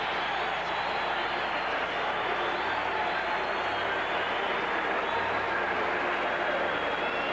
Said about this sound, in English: And the crowd shows its appreciation.